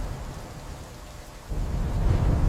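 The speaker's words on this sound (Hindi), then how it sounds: "एक रात तेज आंधी और बारिश आ गई" Thunderstorm with strong wind and heavy rain over a farm field, steady rain hiss and rumble that swells into a deeper, louder roll of thunder halfway through.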